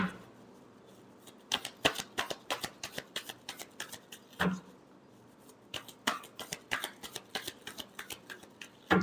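Tarot cards being shuffled by hand in quick, crisp riffling bursts with short pauses between them, close and moderately loud, no talk.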